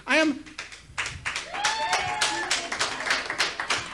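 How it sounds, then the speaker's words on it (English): A small comedy-club audience at a stand-up show gives a short burst of clapping, with scattered light claps alongside a comedian's voice. "Everybody always claps"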